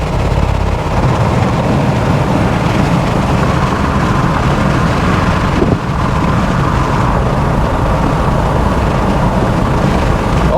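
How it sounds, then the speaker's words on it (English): Steady, loud roar of wind buffeting and road noise inside a 2025 Jeep Gladiator cruising at 60 mph with all windows down, a dense continuous rush with no voice over it. "that's what it sounds like at 60 miles an hour with all of the windows down"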